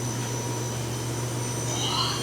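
A 2008 Doosan Puma 2000SY multi-axis CNC turning center idles with its spindle running at 1,000 RPM, giving a steady close hum with a low tonal drone and a constant airy whir.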